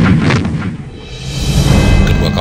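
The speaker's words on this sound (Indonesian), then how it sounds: "RI Macan Tutul dan RI Macan Kumbang melepaskan tembakan dari dua meriam anti pesawatnya." Anti-aircraft cannons on two Indonesian navy warships, RI Macan Tutul and RI Macan Kumbang, firing during the Battle of the Aru Sea: loud, continuous booming blasts that roll and overlap with no pauses.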